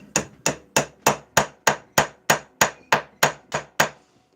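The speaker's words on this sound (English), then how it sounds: "This is like a silversmith's chasing hammer, engravers." A silversmith's chasing hammer strikes about a dozen evenly spaced, sharp metallic blows at a workbench, each ringing briefly before the next, loud and close with no talking.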